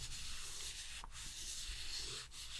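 A metal mug being scrubbed by hand with a polishing paste to remove its coating, a close, continuous gritty rubbing with slight pauses between strokes.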